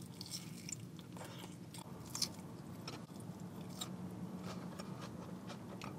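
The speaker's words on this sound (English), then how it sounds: "Let's take a bite of the fish." Battered fried fish from a chip shop takeaway being bitten and chewed close up, a run of soft crunches and wet mastication sounds over a steady low background hum, with no talk.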